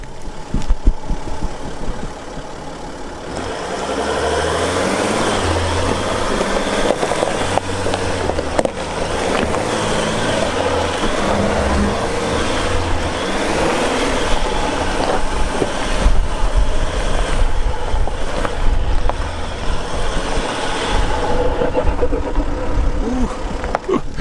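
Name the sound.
car turbo engine working while driving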